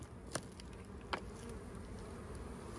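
Bees from a large wild colony in a cut-open tree trunk, a steady low insect drone throughout with two brief sharp clicks, no talking.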